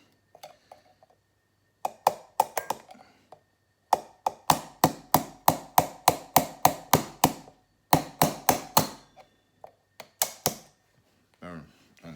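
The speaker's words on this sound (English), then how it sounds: "I'm just going to put a hammer on the back of that." Sharp metallic hammer blows strike in quick bursts, about two dozen hits in short rhythmic runs separated by brief pauses, close and loud, hammering a clip onto a Stihl MS261 chainsaw part.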